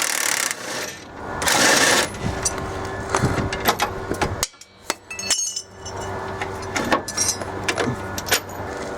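A leverage tool works a suspension bolt loose on a 280ZX front end, giving sharp metallic clinks, taps and rattles in irregular bursts, close by with no speech.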